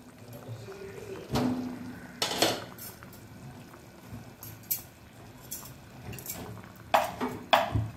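A metal lid lifted off a pot of peas and potato curry, sharp clanks and clinks of metal on metal at several moments between quieter kitchen handling noise, close by, without talk.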